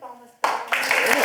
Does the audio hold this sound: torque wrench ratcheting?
no